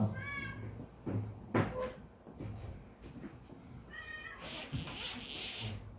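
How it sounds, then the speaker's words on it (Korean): Cat meowing in a church youth Sunday worship setting, several short rising meows heard at the start and again around four seconds, with faint background noise and some bumps between calls. "고양이도 예배를 드리러"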